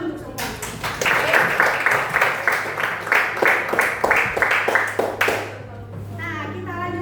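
Schoolchildren in a classroom clap after presentations, loud and fairly close, in uneven bursts mixed with kids' chatter and voices, tapering off as a voice continues at the end.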